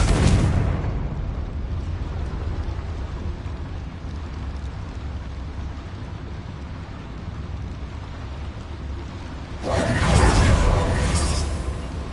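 A Confringo blast spell bursts in the Hogwarts Legacy game: a loud, broad explosive roar at onset over a steady rumbling bed, then a second bright crackling burst near the end.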